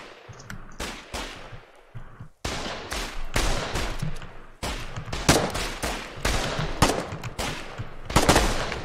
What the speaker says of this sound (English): And gunfire.